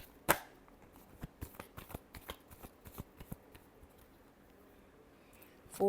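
Tarot cards shuffled by hand in a rapid run of crisp riffling taps, close and fairly quiet, a sharp snap at the start and a few scattered flicks trailing off.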